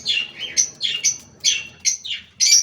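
Pet parrots chirp and tweet in quick, shrill bursts, about seven calls in a lively irregular rhythm, close and loud with no talking.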